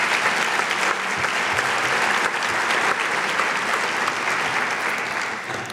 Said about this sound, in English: Please help me show our appreciation with a round of applause.